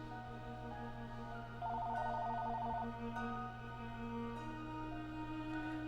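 A phone's ringtone warbles once for about a second, a trilling electronic burst standing out above a steady low musical drone.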